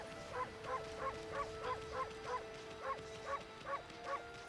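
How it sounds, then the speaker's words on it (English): The wolf character in the video game Okami barks in a steady series of about ten short, evenly spaced, high yips, clear but fairly quiet over low background hiss. "I bark so cutely."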